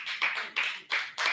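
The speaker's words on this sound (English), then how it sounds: "Oh, you're clapping" An audience at a music event featuring a band claps in a few quiet, bursty waves, heard from a distance with no talk over it.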